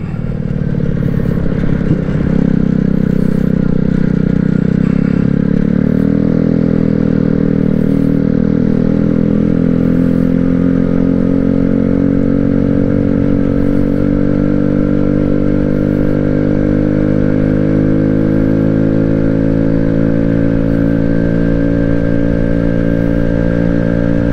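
Amstar Nostalgia 50cc scooter engine revving steadily at high RPM while riding, a continuous loud buzzing drone that climbs slightly in pitch and holds, with faint clatter and no talking.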